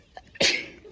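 A single sharp sneeze bursts out in a TEDi discount shop in Alicante, loud and close after a brief quiet moment, trailing off into faint room noise.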